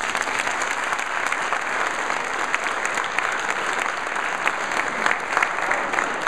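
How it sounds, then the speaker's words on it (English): An audience applauds the brothers standing on stage at an initiation event, a dense, continuous clapping that holds steady and fairly loud throughout, with a faint high tone running beneath it. "Give them a round of applause."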